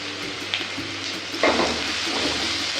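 Chopped large onions drop into hot oil in a pan for vada curry, with green chilies to follow; a steady close sizzle swells into a louder burst of frying partway through, with no voices.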